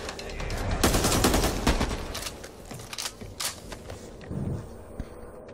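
Rapid bursts of gunfire in a shooting video game crackle in dense volleys, loud at first and then thinning to scattered single shots, with faint mechanical clicks between them.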